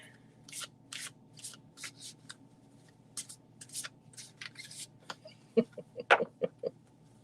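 A deck of oracle cards is shuffled by hand in a run of quick riffling bursts, then a few sharper snaps and taps near the end, close and quiet with no talking.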